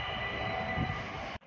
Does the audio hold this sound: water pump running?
no